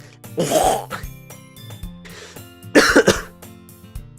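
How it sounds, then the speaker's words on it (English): Two separate coughs, the first short and the second louder and harsher, with quiet background between them. "that first cough was fake, but that one actually was real"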